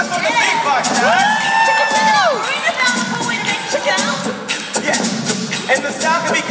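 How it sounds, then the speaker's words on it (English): A lively crowd at a children's live music show cheers, whoops and shouts, with a loud sung or called-out voice sliding over the noise at the start. "Give it up for Twist on the beatbox, guys."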